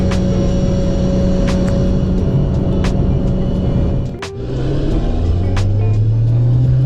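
A Nissan Skyline R32 GT-R running on E85 fuel cruises along the road, its engine a steady, loud drone with a brief dip in the middle before the revs build again.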